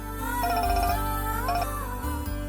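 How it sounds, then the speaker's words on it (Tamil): A phone plays its ringtone for an incoming call from an uncle, a loud close melodic electronic tune repeating in short phrases. "அப்பா, மாமா ஃபோன் பண்றாரு."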